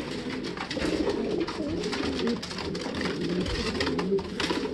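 Racing pigeons coo steadily and close by, with overlapping low throaty calls from several birds continuing throughout without talk.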